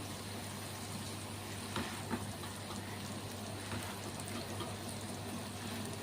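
An egg fries in masala in a pan for a Burma-style egg fry, making a continuous, soft, hissing sizzle with a few faint pops.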